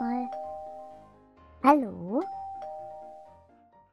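A two-tone doorbell chime in the Minecraft video game rings once, clear and close, with a voice speaking briefly before and after it.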